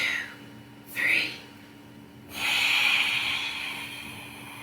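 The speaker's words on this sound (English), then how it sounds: "Take a deep breath in." Slow, deep breathing in a guided breathing exercise: a short breath drawn in, then a longer, louder exhale that holds steady for a couple of seconds, close and alone.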